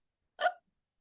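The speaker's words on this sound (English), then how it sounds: "I have hiccups." A single short, sharp hiccup from a girl, close and isolated against silence.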